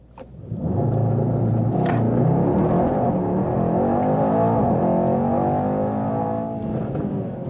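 A Mercedes-AMG E63 S launches from a race start and accelerates from 0 to 130 onto a motorway, its engine rising into a loud, sustained roar that climbs through the gears and fills the cabin.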